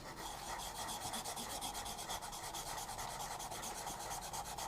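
Steady scissors rasping as they trim around a shape drawn on paper during a kids' craft session, a continuous close scratchy cutting texture with rapid repeated snips and no talking.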